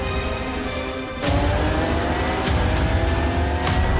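A car engine in the video game Gran Turismo on a PS5 Pro revs up sharply after a steadier stretch, with a rising, surging roar and a few brief bursts near the end.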